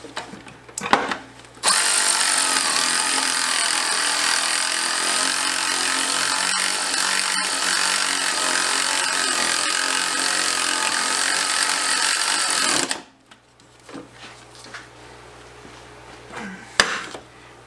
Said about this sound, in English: Use your junk Milwaukee to try to get the bolt started.